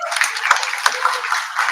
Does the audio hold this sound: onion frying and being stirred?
no